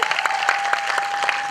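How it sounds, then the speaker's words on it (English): Audience applause at a university foundation day celebration, a short dense burst of many hands clapping evenly throughout, steady and fairly close with no voices over it. "Please, let's give a big round of applause."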